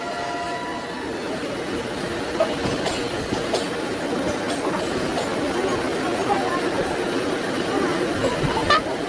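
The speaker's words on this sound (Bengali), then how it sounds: "এটা আর একটা অন্য একটা এক্সপ্রেস ট্রেন, তাকে আমরা ক্রস করছি" A continuous rumbling roar of an express train passing on a parallel track with rattling wheels and faint clatter, heard close alongside from inside a moving carriage.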